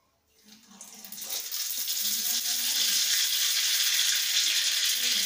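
Mustard seeds hit hot mustard oil in a pan and set off a steady, loud sizzle. It swells quickly within the first second and then holds a dense, continuous crackle at close range with no speech over it.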